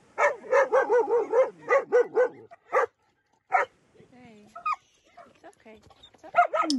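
Puppies bark in quick repeated bursts, then give softer whimpers and yips, with scattered sharp barks returning at the end, all close by.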